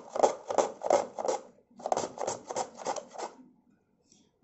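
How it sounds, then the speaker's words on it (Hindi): An onion is rubbed against a sharp-bladed kitchen grater in quick, rhythmic rasping strokes, two close bursts of scraping separated by a brief pause, with no talking. "तो इसको इस तरीके से ये थोड़ी मोटी प्याज आएगी और अच्छी आएगी, या तो आप इसको सीधा इस तरीके से घिस सकते हैं"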